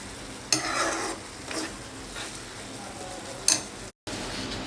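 A ladle stirring semiya payasam in a pot, giving a few distinct scraping swishes with soft bubbling between them, close up and without talk.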